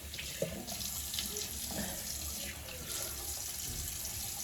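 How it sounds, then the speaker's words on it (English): A bathroom tap runs steadily while a face is washed, and hands splash in the water now and then. The sound is fairly faint and heard at close range. "I'm going to clean my face"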